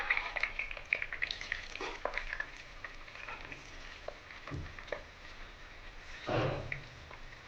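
Soya chunks fry in hot oil with curry leaves in a pan, a steady soft sizzle and patter with occasional stirring scrapes and one louder bubbling burst near the end.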